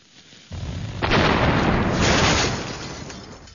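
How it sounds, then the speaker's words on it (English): Cannon firing through a wall, a heavy booming blast that swells into a sustained, loud rumbling roar and crumbling wash, then slowly tails off. "Eric, a cannon fired through a wall at rush hour."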